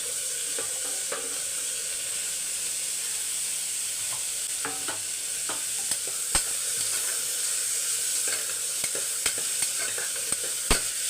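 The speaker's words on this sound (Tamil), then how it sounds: "வெங்காயம் தக்காளி எல்லாம் பாதி வதங்கினா போதும்" Onions and tomatoes sauté in a hot pan for Tamil sambar rice, giving a steady soft sizzle with scattered sharp ticks of a spoon stirring against the pan.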